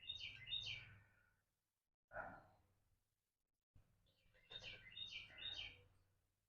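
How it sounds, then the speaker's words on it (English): Birds chirp and tweet in short bursts outdoors in a rose garden, with quiet pauses between songs, fairly close but soft and clear. "The birds are waiting for me to feed them. That's why they're singing like that."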